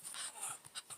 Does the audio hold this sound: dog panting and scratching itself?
yes